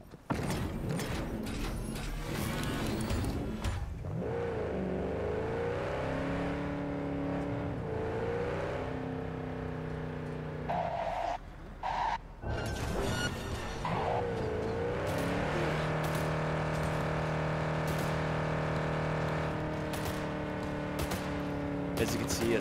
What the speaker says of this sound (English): the ability for deployed drones to climb into your car and shoot from them